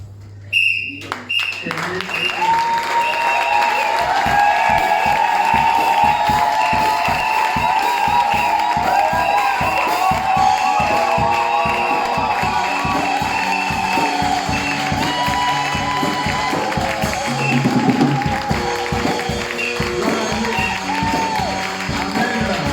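Church congregation at a Christian seminar applauding, cheering and whistling to welcome a reverend, a long dense roar of clapping and shouts under continuing speech, with music-like tones running through.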